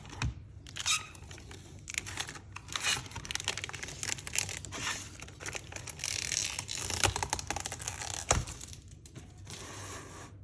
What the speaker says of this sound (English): I then go ahead and peel away the protective film like